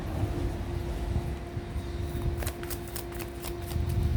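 Tarot cards are shuffled by hand in a quiet room, giving a steady soft riffling with brief crisp flicks near the end and a faint steady hum beneath.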